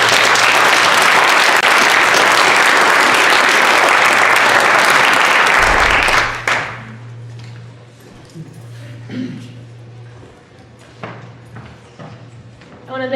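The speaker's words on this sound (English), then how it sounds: "And a big round of applause for Mackenzie as she wraps up tonight." Loud audience applause at a Rock The Vote US Senate debate event fills the first six seconds, then cuts off to quieter room noise with faint murmuring and scattered sounds.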